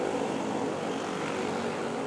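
A Bell helicopter flying near Manila's NAIA airport gives a steady, fairly faint broadband rotor and engine drone, constant throughout with no voices.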